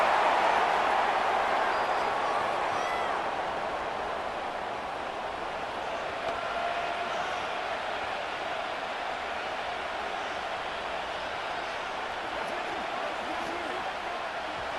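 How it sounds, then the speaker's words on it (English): Stadium crowd noise in a Madden NFL 25 game swells as a steady, dense roar, loudest at the start and then holding level throughout, with a commentator's voice faintly mixed in. "this crowd trying to force a false start here"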